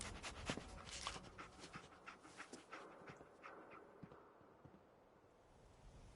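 Dogmeat, the companion dog in the video game Fallout 4, pants quietly in quick rhythmic breaths with light footsteps, faint and close with no talk.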